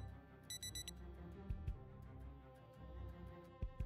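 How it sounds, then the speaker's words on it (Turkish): Alarm clock ringing inside the Project Zomboid video game, a short electronic beeping pattern of repeated rapid tones near the start, heard over a low game ambience with a few soft thuds. "Alarm saatimde benim alarm mı varmış saat 8 için?"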